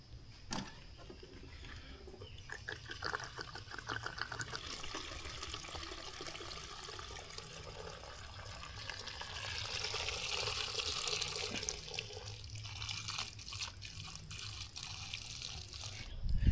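Liquid pours from a can fitted with a safety nozzle in a steady, gurgling stream that runs unbroken for about sixteen seconds, close by and moderately loud.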